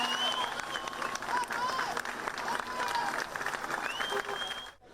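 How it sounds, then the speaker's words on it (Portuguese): Crowd applauding at Pelé's funeral at the Memorial cemetery, sustained clapping mixed with cheers and shouting voices, loud and continuous before cutting off abruptly at the end. "A todo momento, aplausos carregados e uma mistura de amor e gratidão."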